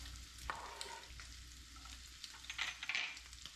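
Sliced onions dropped into a hot pan on a butane stove, a soft continuous sizzle with a few brief louder crackles, quiet and close, no talking.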